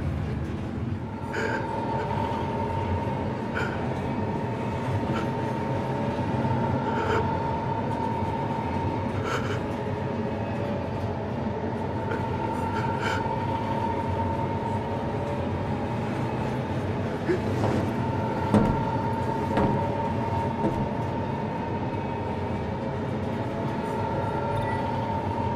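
Steady rumble of a train ride in Final Fantasy XV, a continuous low rolling drone with a sustained tone and faint intermittent clicks, loud and unbroken throughout.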